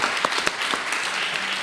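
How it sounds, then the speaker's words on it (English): Panel audience applauding the panelists, a dense, even burst of many hands clapping with a few sharper individual claps near the start, continuous throughout. "So I want a round of applause for our great panelists here."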